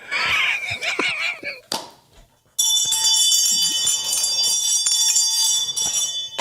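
A bell rings in a podcast studio, a sustained bright metallic ringing that fills the latter part after a short pause, following a stretch of lively talk and laughter.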